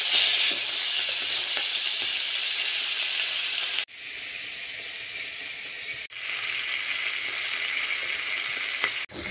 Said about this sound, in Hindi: इबे बस हलदी टिके पकईकि सुखुआटा को पूरा भलसे टिके भाजबार अच्छे।